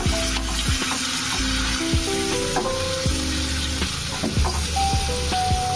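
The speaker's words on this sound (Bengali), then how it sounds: "পেঁয়াজ পেস্টটা দেওয়ার পরে এটাকে 2 থেকে 3 মিনিট মতো আমি কষিয়ে নিয়েছি খুব ভালোভাবে" Paste of three medium onions sizzles and crackles steadily in a pan for chicken, with occasional stirring scrapes and a light tonal melody running underneath.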